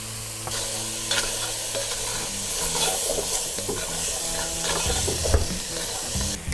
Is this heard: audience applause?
no